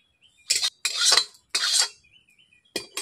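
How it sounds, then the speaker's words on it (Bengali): A metal wok is set onto a stove while cooking dal puri, giving several sharp clanking scrapes in quick bursts separated by brief silences, close and fairly loud. "কড়াই বসিয়ে দিচ্ছি।"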